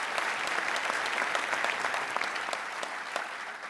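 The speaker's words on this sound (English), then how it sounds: "Let's give him a round of applause." A crowd applauds at a state budget address, many hands clapping in a steady, even roar with no voices over it.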